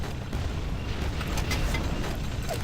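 Boss machine gun fire in the Quake II video game, a dense, loud burst of rapid booming shots with low thumps, lasting a few seconds.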